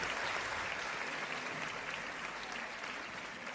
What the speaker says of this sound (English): Let's give them a hand clap for 50 years